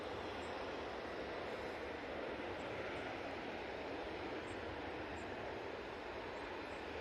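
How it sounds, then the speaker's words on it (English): A Belfast flight airliner touches down at Manchester Airport, heard as a faint, distant, continuous rushing roar of engine and runway noise that holds steady with no voices. "Belfast flight there, just touching down."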